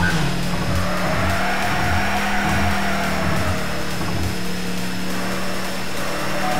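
A racing car engine roars continuously in the Wangan Midnight Maximum Tune 6 arcade game, a steady loud high-revving drone with a faint tyre hiss, no talk.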